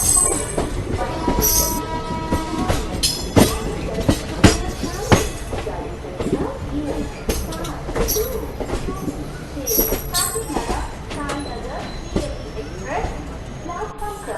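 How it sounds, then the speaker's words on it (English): An express train rumbles and clatters into a station platform, wheels squealing and clanking in irregular bursts, while a public-address announcement plays over the noise. "Unreserved Express is arriving on platform number 3"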